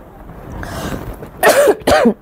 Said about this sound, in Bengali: এরকমই খুসখুস কাশি থাকে যতক্ষণ কথা বলি